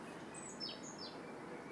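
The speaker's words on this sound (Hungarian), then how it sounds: "hallani a madarakat" Faint, distant birdsong on a spring morning: a few thin chirps and whistles float over a steady outdoor hiss.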